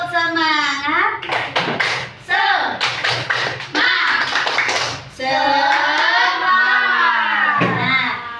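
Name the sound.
students doing a rhythmic clapping chant, tepuk semangat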